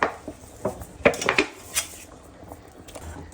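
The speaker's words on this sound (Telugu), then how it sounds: "బెల్లం వేసుకుందాం" Jaggery dropped into a pot of simmering payasam, a few sharp clinks and knocks of utensil against metal with soft wet thuds between, fairly close and sparse.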